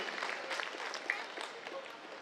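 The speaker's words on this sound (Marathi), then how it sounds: "आपण जोरदार टाळ्या वाजवून अशा प्रकारचं आयोजन करणाऱ्या सगळ्या कार्यकर्त्यांचं मनापासून अभिनंदन करूया." A crowd at a Hindu gathering in Vashi, Navi Mumbai, gives a short burst of dense, steady applause to thank the event organisers, a continuous wash of many hands with no break.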